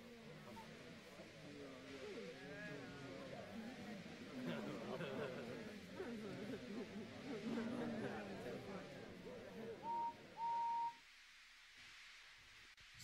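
A cartoon green steam engine gives two short, clear whistle toots near the end, after a long stretch of characters talking.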